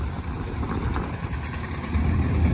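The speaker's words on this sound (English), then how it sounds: "you'll probably be able to hear a Lance Bulldog tractor popping away in the background there." A Lanz Bulldog tractor engine pops away steadily in the background on a breezy outback day, a low rumbling chug under wind noise with no talk.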